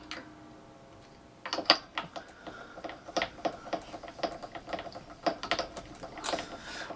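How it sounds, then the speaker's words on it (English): Ratcheting clicks as a string winder turns the tuner on a guitar fitted with a Bigsby vibrato, tightening a new string: a short burst followed by a run of quick, evenly spaced ticks, close and fairly quiet. "grab my string winder that was in the wrong spot"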